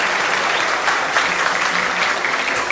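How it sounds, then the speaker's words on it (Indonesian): An audience applauds Ramaditya Adikara at a motivational talk about facing national exams, with dense, steady clapping that fills the room and holds at an even level throughout, no voices on top. "tepuk tangan lagi dong buat Ramaditya"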